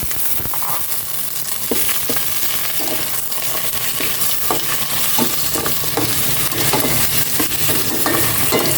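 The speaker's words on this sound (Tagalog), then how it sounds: "Ilalagay ko na tong pork para mag-isa ko siya" Pork sizzles and fries steadily in a hot pan for adobo while a utensil stirs and scrapes at irregular intervals, loud and close with no talking.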